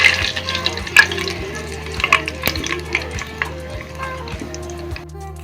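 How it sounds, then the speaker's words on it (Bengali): Bay leaves, cinnamon, cloves and cracked cardamom fry in hot oil with sugar for mutton kosha, giving a soft, steady sizzle broken by a few sharp spoon clinks and stirring scrapes. "তেলের মধ্যে মশলাগুলোকে আমি একটু ভাজা ভাজা করে নিলাম।"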